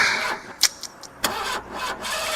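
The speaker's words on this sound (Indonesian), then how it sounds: "Aku coba berkali-kali menstarter mobilku." An old car's engine cranks in several short, uneven bursts without catching, the starter whirring and stopping repeatedly, close and moderately loud with no voices.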